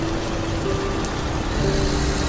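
Heavy rain pours steadily on a truck cab during a stormy night drive in a horror story, a dense unbroken hiss with a low rumble of engine underneath, constant and close throughout with no voices.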